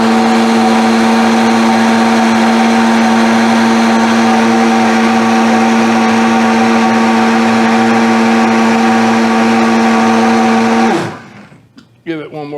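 Blender whirs loudly and steadily while blending green goddess sauce, running close for about eleven seconds before spinning down abruptly, followed by a few faint clinks.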